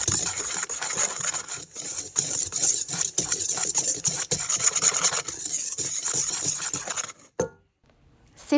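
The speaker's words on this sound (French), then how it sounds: "réduire en poudre 130 g de flocons d'avoine sans gluten" Gluten-free oat flakes being ground into powder in a kitchen appliance, a continuous harsh rasping whir for about seven seconds that cuts off abruptly, followed by near silence and a brief clunk.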